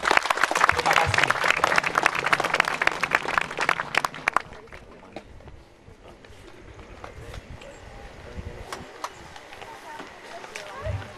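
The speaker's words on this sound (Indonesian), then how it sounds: "Kita beri tepuk tangan yang meriah lagi." Crowd applause rings out at a ceremony commemorating ten years since Timor-Leste separated from Indonesia, with a dense, loud burst of clapping that thins to scattered claps and background murmur after about four seconds.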